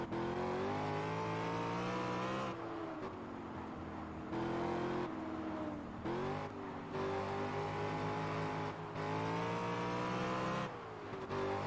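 Car engine in the Test Drive Unlimited racing game, droning steadily with pitch rising and dropping through repeated gear shifts, loud and continuous with no talk.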